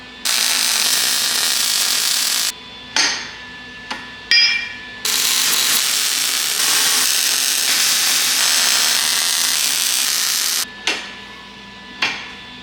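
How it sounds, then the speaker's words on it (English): Arc welding on a Silverado axle housing being narrowed for a C10, a loud steady crackling buzz in long runs broken by short pauses between beads, with no voices. "weld this thing up."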